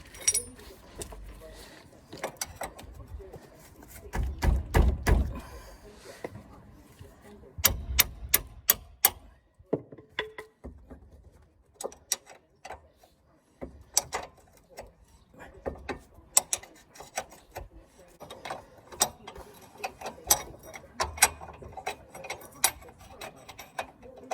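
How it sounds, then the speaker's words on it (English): Metal clicks and clinks of a 21mm combination spanner working a nut loose on a 2010 Ford Focus MK2 front wishbone, irregular bursts of close, sharp taps and scrapes with quieter pauses between. "this is what we're loosening next, 21mm combi spanner"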